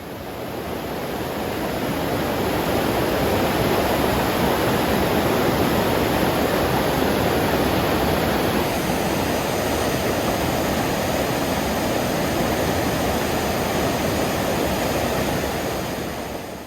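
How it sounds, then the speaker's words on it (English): Water pours over the weir at Darley Abbey in a dense, unbroken roar that stays loud and even throughout, with no voices over it. "The weir is of course one of the most striking features of the site"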